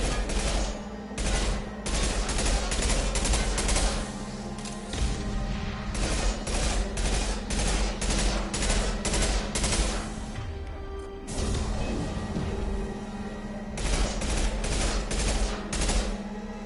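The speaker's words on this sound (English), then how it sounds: "Machine gun." Sustained machine gun fire in the video game Mass Effect 2, long loud rapid bursts broken by brief pauses, with a steady electronic hum behind the shots.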